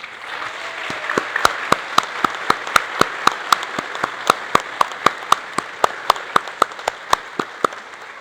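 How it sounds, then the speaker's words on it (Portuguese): Steady, sharp rhythmic clapping at a church service, a single crisp clap repeating evenly about three times per second over a soft background murmur. "o Romeu e a Laura, com uma salva de palmas."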